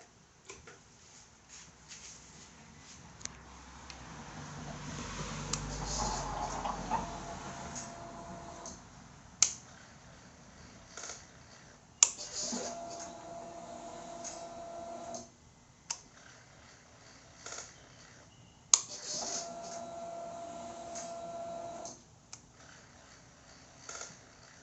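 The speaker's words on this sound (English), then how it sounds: "turn the key on and let the fuel pump cycle for 3 or 4 times" The fuel pump on a 2008 Suzuki Boulevard M109R motorcycle cycles after the key is turned on, making faint, repeated whirring runs broken by sharp clicks and ticks, with several cycles spread over a quiet background.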